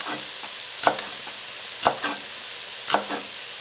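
Mushrooms, butter and green onions frying in a pan, a quiet steady sizzle broken by three soft stirring scrapes at roughly one-second intervals.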